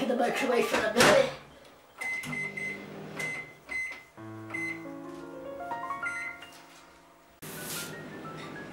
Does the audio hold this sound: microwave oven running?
yes